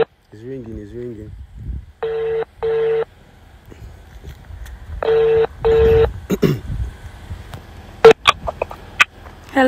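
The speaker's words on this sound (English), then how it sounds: "It's ringing." A phone call on speakerphone, with dialing tones followed by repeated ringback tones in evenly spaced pairs, moderately loud, with voices and murmurs in between.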